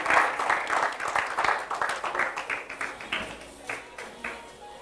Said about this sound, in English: A round of applause for the students of GSS Alugu-Lungu.